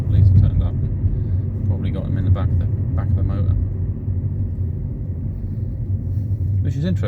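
A car passing at night on a road nearby, its engine a steady low rumble that holds throughout, with some background activity and brief higher noises over the top.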